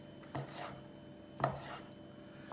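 A knife chops tripe on a cutting board into dice-sized pieces in three distinct, evenly spaced strokes, close and fairly quiet, with no talking.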